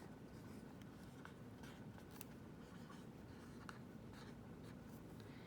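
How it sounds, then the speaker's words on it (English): Marker or pen writing short-A words on a board for a phonics lesson, a steady faint scratching with scattered squeaks and taps, quiet and continuous with no talking. "So I'm going to write a few words here."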